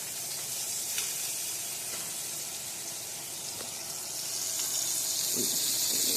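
Eye round beef pieces searing in a hot pan for pot roast, a continuous loud hiss of sizzling with a few faint clinks and scrapes as the meat is turned.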